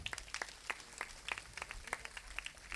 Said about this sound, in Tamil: நல்லா நல்ல ஒரு கைதட்டல் கொடுங்க